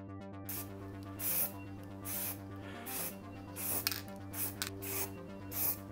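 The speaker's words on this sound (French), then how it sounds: "On est parti pour le mastic pulvérisable, donc il dit une distance entre 25 et 30 cm." Aerosol can spraying sprayable filler putty onto a car part such as a mirror or bumper from about 25–30 cm, short repeated hissing bursts roughly every second, close and moderately loud, with light handling noises between.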